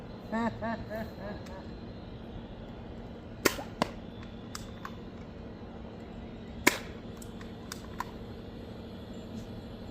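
A Dart Zone Outlaws toy blaster fires foam darts with a few sharp, separate snaps spaced seconds apart, each a crisp click over a quiet background.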